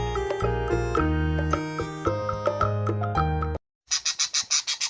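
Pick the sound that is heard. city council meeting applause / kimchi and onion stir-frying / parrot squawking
parrot squawking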